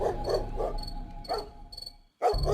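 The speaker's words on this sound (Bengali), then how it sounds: "আর কুকুরের ঘেউ ঘেউ" A dog barks several times at night in a Bengali horror cartoon, short bursts in a loose rhythm set against a dark ambient background with a brief silent gap before a final loud bark.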